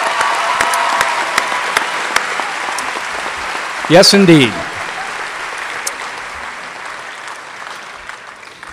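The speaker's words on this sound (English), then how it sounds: "we owe them another round of applause for that kind of sacrifice" Graduation audience at a high school ceremony breaking into steady applause, loud and continuous, with someone briefly speaking over it midway before the clapping carries on and slowly thins.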